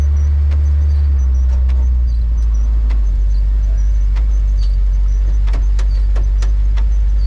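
An Oldsmobile engine with an untuned carburetor idles too high, a loud, steady low rumble close by with a faint rattle on top and no one speaking.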